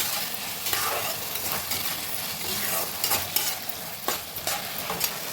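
Stirring soy sauce into chili chicken in a hot pan, a steady sizzle with repeated scraping strokes of the spoon, close and continuous throughout with no talking.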